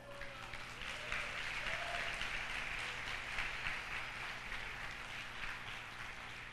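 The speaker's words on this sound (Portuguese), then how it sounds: "Aplauda ao Senhor." Applause from a church congregation in a Baptist service fills the room with steady, dense clapping that holds for several seconds, with a low hum underneath and no voices on top.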